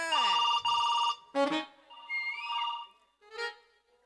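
A telephone plays a melodic electronic ringtone during a staged folk comedy play from Kolar: short bursts of bright, tonal beeps with brief pauses between them, moderately loud.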